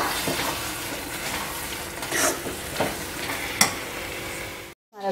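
Aloo baingan bharta with green coriander gets stirred in a hot pan, a continuous sizzle broken by several scraping spoon strokes against the metal, close and loud, ending in a sudden cut.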